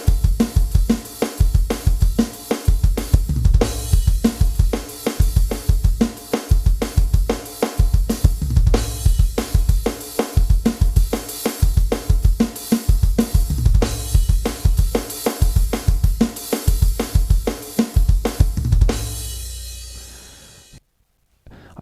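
A fast drum kit pattern for the song Woe Betide, with bass drum, snare, toms and crash cymbal played at speed, repeated in dense loud bursts for about nineteen seconds before the kit stops and decays.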